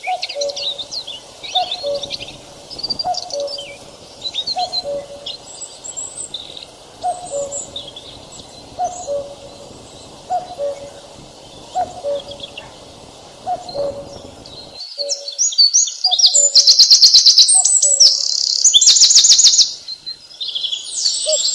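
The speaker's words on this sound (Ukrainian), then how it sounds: "Так, це була пташка" Birds singing outdoors: a repeated hooting call with steady rhythm under high chirps, then bright dense twittering takes over near the end.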